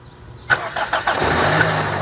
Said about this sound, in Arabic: هلاقي السيارة اشتغلت معايا اهي